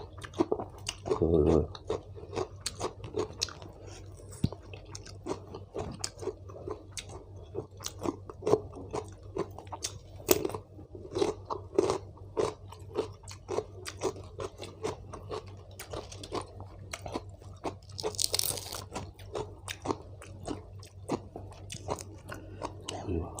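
Someone eats pounded shrimp salad with strong fermented fish sauce, making steady, close wet chewing and crunching sounds throughout, with bits of talk in between.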